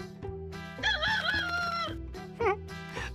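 A rooster crows once in a long rising-and-falling call over steady background music from a children's story film, followed by a shorter squawk near the end.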